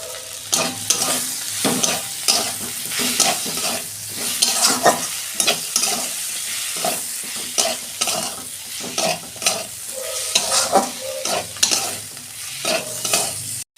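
Tomatoes sizzle and fry in a pan for a vegetarian raw-tomato curry, with steady hissing and repeated bursts of stirring scrapes throughout.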